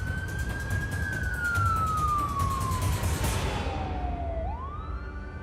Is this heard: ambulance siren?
yes